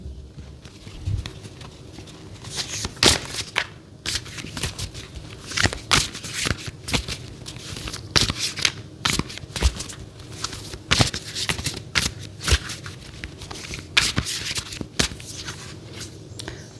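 Tarot cards are shuffled by hand in a steady run of crisp riffling slaps and soft flutters, close and alone with no speech.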